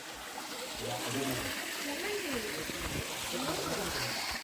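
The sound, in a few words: small waterfall flowing over rocks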